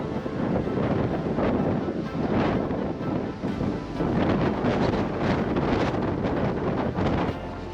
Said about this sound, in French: il y a encore plus de vent qu'hier